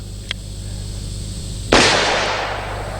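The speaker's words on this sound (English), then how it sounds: "Yeah, we got our plate swinging pretty well there, don't we?" A single sharp gunshot rings out with a bullet striking a swinging steel plate target at an outdoor shooting range; a loud burst followed by a fading tail, with a faint click just before and no talking.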